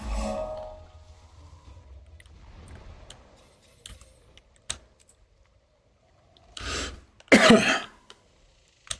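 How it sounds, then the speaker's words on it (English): Two short, harsh coughs close by near the end, preceded by quiet rustling and a few small clicks. "For some reason I got the coughs this evening a little bit."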